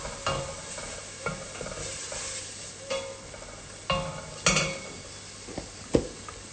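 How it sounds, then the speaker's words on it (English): Seasoning, herbs and curry sautéing in a pot, with a spoon stirring and scraping against the metal in several distinct strokes over a low steady sizzle, close by and with no talking. "So once this is sauteed and you begin to get the aroma of the herbs in the blended seasoning and the curry"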